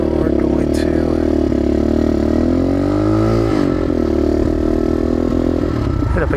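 A modded Gryffin 250 motorcycle rides along the road, its engine droning steadily close up with a brief dip and rise in pitch as it shifts, loud and continuous.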